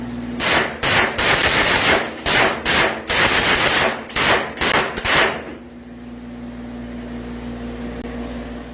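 A Freedom Ordnance FX-9 9mm carbine fired at a test facility, about a dozen loud, sharp shots in an uneven rhythm, then a quieter stretch of steady background noise.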